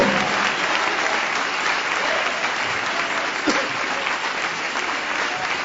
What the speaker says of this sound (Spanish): Dale ese aplauso de alabanza al Señor Jesucristo.